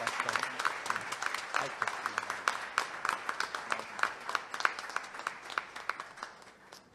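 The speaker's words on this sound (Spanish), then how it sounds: "Vamos a darle un aplauso." Congregation applause in a church: steady, lively clapping from many hands with sharp individual claps standing out, while someone speaks briefly over it.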